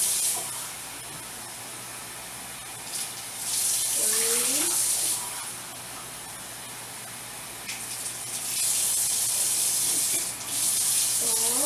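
Water runs from a tap into a pot for cooking rice, hissing in long bursts that start and stop, with a faint whistling tone between the pours.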